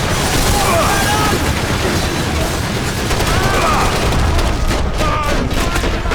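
Dense, loud bursts of game gunfire from the shooter Max Payne 3, a continuous fusillade with booming impacts, overlaid with voices talking throughout.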